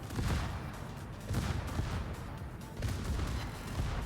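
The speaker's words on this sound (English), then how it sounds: "then Vesma is gonna get his broadside shot on me" Heavy naval gunfire from warships in the World of Warships game: several booming salvos, each a loud broadband burst, arriving roughly every second or so over a constant rumbling battle din.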